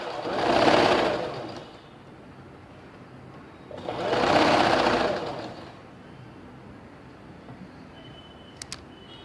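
A sewing machine runs a topstitch around a kurti collar in two short bursts of whirring stitches with a quiet pause between them, close and moderately loud, followed by a couple of faint clicks.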